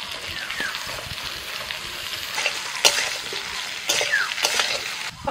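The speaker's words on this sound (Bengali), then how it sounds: "আরও 5 মিনিট পটল আর কুমড়োটাকে ভেজে নিয়ে এবার আমি দিয়ে দিচ্ছি বেগুন আর ঝিঙে" Vegetables sizzling in hot oil in a pan as eggplant and ridge gourd join pointed gourd and pumpkin, steady frying hiss with scraping stirring strokes and a couple of louder bursts, close up and without talk.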